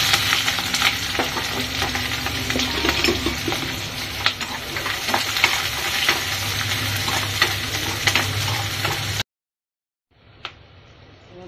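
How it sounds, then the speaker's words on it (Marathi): Onion, green chili and curry leaves sizzle and crackle loudly in a hot pan with occasional stirring, continuing steadily before cutting off abruptly, followed by faint quieter frying. "त्याच्यामध्ये मी कांदा आणि मिरची कढीपत्ता टाकते"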